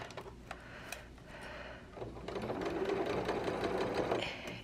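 A home sewing machine stitches a seam around a curve on a sewing basket project, starting with a few slow stops and clicks, then running in a steady close rapid whir that stops at the end.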